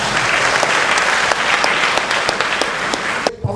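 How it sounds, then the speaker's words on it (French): An audience at a Longrich company presentation in Burkina Faso breaks into loud, sustained applause, a dense wash of clapping with individual sharp claps standing out, cutting off abruptly at the end. "Applaudissez pour vous."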